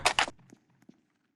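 Footsteps from the Roblox horror game The Mimic fanmade, Tree Yard chapter. Two quick, louder steps are followed by a few faint, scattered thuds fading out.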